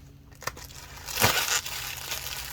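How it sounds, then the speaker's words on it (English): Packaging is cut open with a brief crinkly tearing and crunching burst near the middle, surrounded by quiet handling noise and no speech. "let's cut this open."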